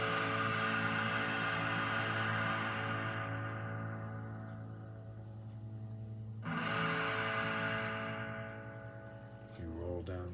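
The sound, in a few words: electric guitar played with a distorted tone through a Rat pedal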